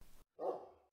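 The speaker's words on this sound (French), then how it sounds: "le chien de berger." A single sheepdog bark sounds as a short, muffled effect in a children's story, brief and quiet after a moment of silence.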